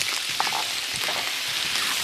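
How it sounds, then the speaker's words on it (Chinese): Pork belly fries in a pan with caramelized rock sugar, a close, steady sizzle with scattered pops and spatters throughout the short moment. "糖色炒出颜色了之后加五花肉， 给它把里面的油脂给它煎出来哈"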